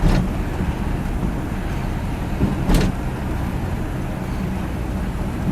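A 1959 Chrysler New Yorker hardtop cruising along on a Minnesota drive, its steady low road and engine rumble filling the cabin, with a couple of faint clicks or thumps from inside the car and no talking.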